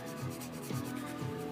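Sandpaper rubbing back and forth on a piece to create a rust effect, a close, steady abrasive scratching with rhythmic strokes.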